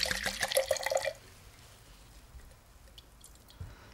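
A 2004 Chilean red wine is poured into a glass, a short close liquid gurgle and splash lasting about a second, followed by quiet.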